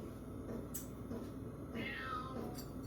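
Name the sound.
cat meowing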